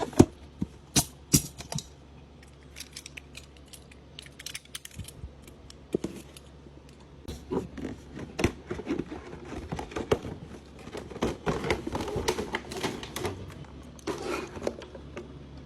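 A Marvel Legends Venom Gamerverse figure box is opened with faint clicks, taps and plastic and cardboard rustling, scattered and quiet at first, then busier crinkling toward the end.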